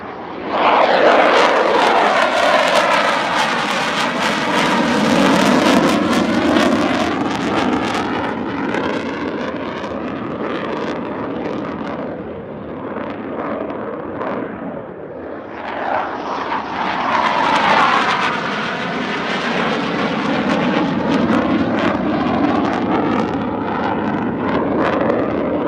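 A fixed-wing aircraft flies the circuit on a landing approach, and its engine drone swells loud and near, fades slightly, then builds again as a second pass goes by. Wind buffets the microphone.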